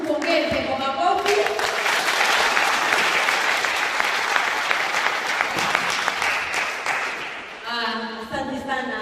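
An audience at a high school parents' induction event applauds, sustained clapping from a crowd filling most of the stretch before fading, with a voice speaking at the start and end.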